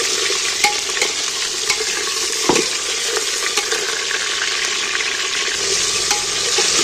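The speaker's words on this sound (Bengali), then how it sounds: "এবার আমি গোটা পেঁয়াজগুলোকে একটু নাড়তে থাকবো।" Whole onions stirred and frying in a pan for a mutton dish cooked without oil, a steady close sizzle with scraping spoon strokes and one sharper clank partway through.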